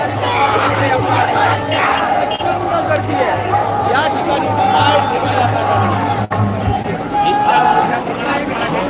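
A huge crowd gathered in Nashik city, a dense, loud roar of many voices and shouting that runs steadily throughout, with a low constant hum beneath.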